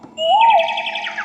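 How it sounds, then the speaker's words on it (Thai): A bird sound effect on an SV800 keyboard opens with a rising whistle, then turns into a quick run of bright, warbling chirps. It is clear and close, with no talk over it. "เสียงนก"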